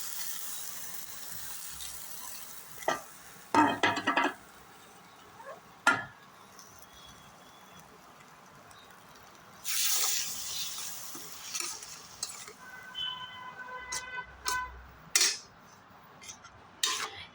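Garlic, tomato, salt, turmeric and chilli powder paste sizzles in a frying pan on an induction cooker, with bursts of hissing and scraping clatters of a utensil against the pan, loud at moments and quieter between.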